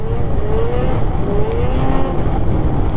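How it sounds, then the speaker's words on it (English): A 600 Catalyst snowmobile engine, freshly clutched and tuned, is blipped on the throttle, its loud buzzing drone rising and falling in quick revs close by throughout. "Like you can see, I'm just blipping it right now."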